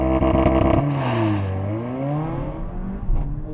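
A Mercedes-AMG A45 launches hard from a race start. The engine note climbs steeply, drops at each upshift and rises again in a loud, close, rising whine.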